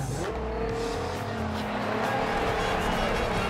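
Race car in Forza Horizon 2 braking hard after an off-road stretch, a steady loud engine drone with a descending whine and tire noise, continuous and close throughout.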